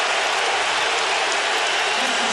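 A basketball arena crowd at the 2006 Eastern Conference Finals Game 4, Pistons versus Heat, roars in reaction to a reach foul on Rasheed Wallace, a loud, dense, unbroken wall of cheering.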